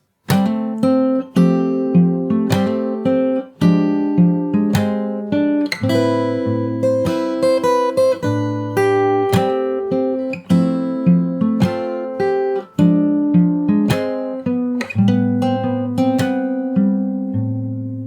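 Fingerstyle acoustic guitar playing the second part of a song, with steady slap percussion on the strings and extra melody notes over ringing open strings, close and solo, no voices.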